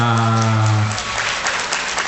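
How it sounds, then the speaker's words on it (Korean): Applause from an audience at a children's performance continues as a broad clatter of clapping, with a sustained voice or tone over the first second before the clapping carries on alone. "박수 한 번 더 크게 보내주시면 좋겠습니다"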